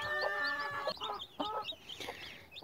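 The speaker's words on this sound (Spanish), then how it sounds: "pollitos." Newly hatched chicks peep near a broody hen on her nest, in thin, high, slightly falling cheeps that overlap and repeat close up over soft clucking, with no voices.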